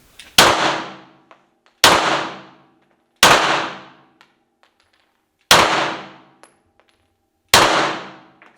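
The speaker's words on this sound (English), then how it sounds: "When you are ready, you can shoot." Five loud, sharp gunshots from a firearm at a shooting range in Riga, Latvia, each cracking out alone and decaying over about a second, spaced irregularly with silence between.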